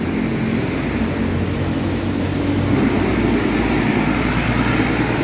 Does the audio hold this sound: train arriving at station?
yes